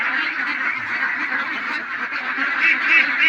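A flock of ducks on a duck farm quacks in a dense, continuous chorus, many birds calling over one another at close range with no pauses and no talk.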